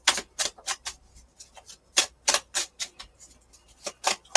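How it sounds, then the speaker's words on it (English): Tarot cards pulled and shuffled from a deck, a run of quick crisp snaps and flicks in irregular bursts, close and fairly quiet with no talking. "Let's just pull a few cards here."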